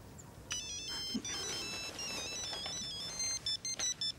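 A mobile phone ringtone plays a repeating electronic melody over a noisy room background, with muffled voices and movement underneath.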